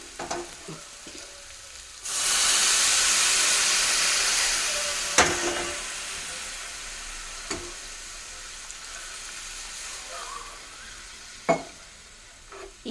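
Egg curry with salt, chili powder and turmeric frying in a pan gives off a loud, steady sizzling hiss that starts abruptly, with occasional stirring clinks and scrapes as the sizzle slowly fades.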